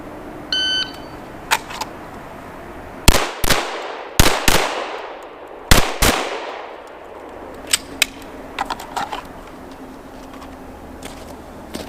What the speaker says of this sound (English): From the hood, 6 shots on 3 different targets in .550.